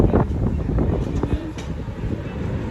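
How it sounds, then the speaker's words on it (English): Strong, dusty wind gusting through the streets of Mindelo on São Vicente, buffeting the microphone with a steady low roar and rumble while a person talks over it. "oh my God, it's so windy."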